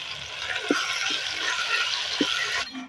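Water is poured into a pan of frying spice masala paste of onion, tomato, cumin, green chilli and garlic, a steady rushing hiss and sizzle that runs loud and close for nearly three seconds before cutting off.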